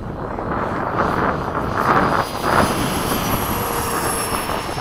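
Freewing 80mm F-5 Rafale all-composite RC jet with an electric ducted fan on 12s power, a steady loud broadband whine and rush holding for several seconds at a sunset airfield, no talk.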